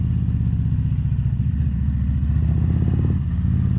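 Motorcycle engine with custom CTX aftermarket exhaust pipes idles and rumbles steadily, a deep, loud, continuous throb that rises slightly toward the end with no voices.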